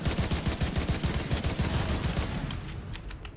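Sustained automatic gunfire from a firefight in the video game The Division 2, rapid loud bursts repeating for about two and a half seconds before tapering into scattered, more distant shots.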